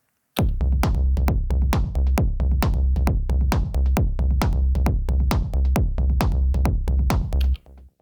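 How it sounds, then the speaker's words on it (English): An Elektron Syntakt drum machine groove with steady hi-hats and snappy claps landing together over a deep kick, looping evenly and alone. "the hi-hats are playing simultaneously with the claps, making them barely noticeable"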